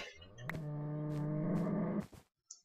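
A cow in the video game Minecraft dying, giving a single drawn-out low moo lasting over a second, clear and close, followed by a brief click.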